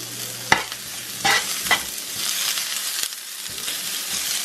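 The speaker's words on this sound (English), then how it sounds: "we're going to get these onions sauteed a little bit" Onions sautéing in oil in a pan for a coconut cilantro red snapper dish, steady frying hiss broken by several sharp spatula scrapes and clacks, close by and without talk.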